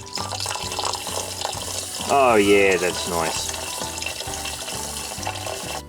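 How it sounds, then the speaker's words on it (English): Well water poured into a shrimp tank over gravel substrate, a brief splashing gush in the middle under steady background music, with a person speaking briefly. "I can pour in my pure well water"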